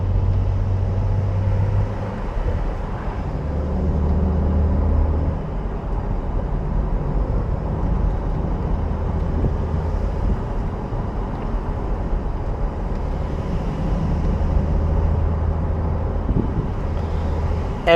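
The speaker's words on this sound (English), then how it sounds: "when I downshift, it does the little auto rev match" Porsche 911 992 4S with a seven-speed manual, rumbling steadily through a downshift with an automatic rev-match blip and low exhaust burbles, heard from inside the cabin under continuous road and engine noise.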